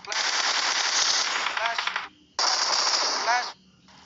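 Automatic rifle fire from the PUBG Mobile game, two sustained bursts of rapid shots separated by a short pause, loud and close.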